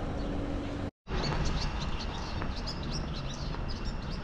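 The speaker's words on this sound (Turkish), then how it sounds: "Şimdi kuş cıvıltıları arasında yürüyoruz." Small birds chirp and tweet intermittently in the distance over steady outdoor background noise, with a brief dropout near the start.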